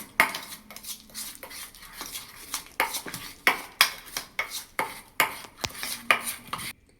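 A spoon beats a thin curd batter for soybean chilli in a bowl, giving a run of quick, close clinks and scrapes in a fairly regular rhythm that stops abruptly at the end, with no talking.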